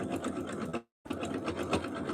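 A sewing machine running a wide zigzag stitch along a fabric strip rug, a fast steady close mechanical whir that cuts out for a brief silence, then starts again.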